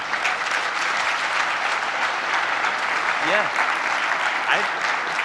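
Audience applause welcomes a guest speaker to a startup event stage, a steady dense clapping with a few brief voices rising faintly above it.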